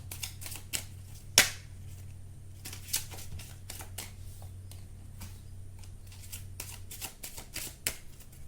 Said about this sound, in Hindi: आपके सामने कुछ कार्ड्स निकालती हूँ